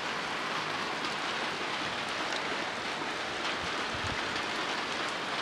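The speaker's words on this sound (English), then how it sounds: "And I love the rain." Steady rain falls during a thunderstorm outside a workshop, a dense, even hiss of drops on surfaces that holds at constant loudness throughout, with no voices over it.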